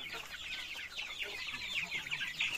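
Darag native chickens on a South Cotabato farm cluck and chatter continuously, several birds overlapping in a busy, moderately close flock.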